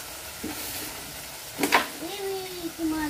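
Water poured into a pan of sizzling fried spice paste while cooking a pabda fish curry, giving a brief loud splash and hiss followed by steady bubbling frying, near and close to the pan.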